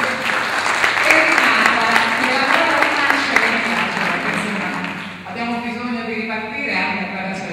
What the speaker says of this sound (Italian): Quindi facciamo un applauso anche alla Prologo